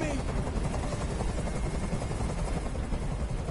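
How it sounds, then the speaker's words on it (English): Helicopter hovering overhead in the video game Detroit: Become Human, a loud continuous rotor roar filling the whole stretch without letting up. "I can't stand that noise anymore. Tell that helicopter to get out of here."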